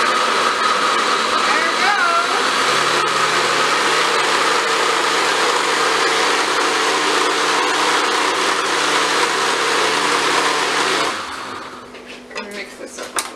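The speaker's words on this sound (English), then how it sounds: "Alright, so we're going to blend" A blender whirs loudly and continuously, churning carrots and ginger for Jamaican carrot juice, then cuts off near the end, leaving some clatter and a brief spoken remark.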